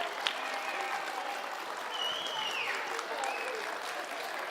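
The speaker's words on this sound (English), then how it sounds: "A round of applause." An audience at a science talk about superhero science gives a round of applause, a steady patter of many hands clapping together, fairly faint and even throughout with no voices on top.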